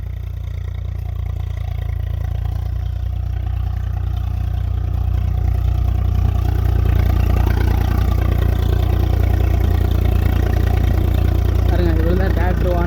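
A tractor works a farm field, forming ridges while seed is sown. Its engine drones loudly and steadily throughout.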